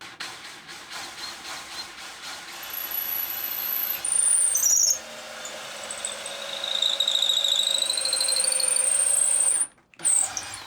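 A power drill bores into hardwood for a saw vice's jaws, its motor whining at steady pitch with shrill squealing from the bit, then it stops briefly before starting again.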